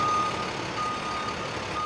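A steady, high reversing beep from a public works salt truck in Everett, sounding repeatedly over a constant low engine rumble, fairly close and clear with no talk.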